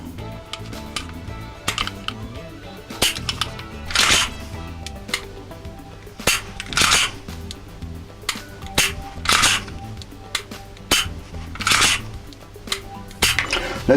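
A Cybergun/KWC Colt 1911 MkIV '70 Series airsoft replica clicks sharply as its trigger is pulled and reset, over and over in an uneven rhythm, with a constant low background hum.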